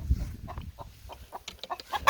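Hens clucking after laying eggs outdoors in an autumn garden, a series of short, rhythmic clucks rising in pitch and intensity, fairly close, ending in a louder squawk.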